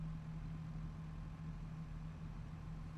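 Tractor engine running steadily in a farming video game, a low constant drone with an even hum, fairly quiet and alone without talk.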